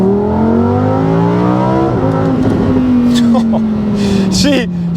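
An all-wheel-drive Lamborghini Huracan Sterrato accelerates hard, its engine note climbing steadily and loudly from the cabin, with a brief shift partway through before the revs keep rising.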